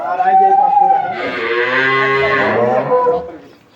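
Jersey breed dairy cow at a cattle market giving one long, loud moo that rises and swells before fading, close by.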